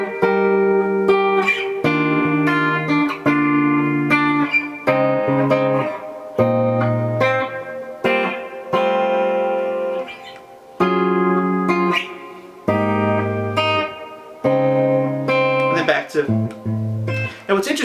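A guitar plays the ending chord progression of a song, a sequence of ringing chords, each struck and held for a beat or two before changing, clear and close with no talking.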